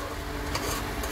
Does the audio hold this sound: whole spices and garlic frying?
yes